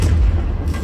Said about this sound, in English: Can you get thrown back by an explosion like that and get up?